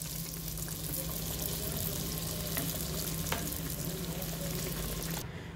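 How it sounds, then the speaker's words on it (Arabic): Beignet dough frying and puffing in a pan of hot oil, with a loud, even bubbling sizzle that holds steady throughout and then cuts off abruptly at the end. "غير كنحطوهم في المقله"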